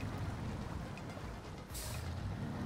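Truck engine in the snowy off-road driving game SnowRunner, a low steady rumble with a brief hissing burst like an air brake release partway through, no talking.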